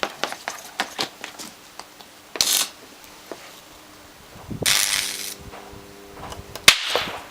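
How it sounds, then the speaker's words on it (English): Sharp bangs and crackles as electrolytic capacitors pop on a variac in short bursts, with a couple of louder hissing blasts and a steady electrical hum between them. "let's pop some more electrolytic caps"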